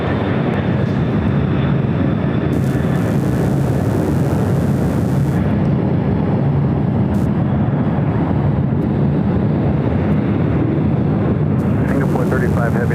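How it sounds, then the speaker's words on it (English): Boeing 767 jet of ABX Air on its takeoff roll at LAX, a continuous loud broadband engine roar that holds steady throughout, with voices talking over it. "We do have an ABX Air 767 taking off on the south side."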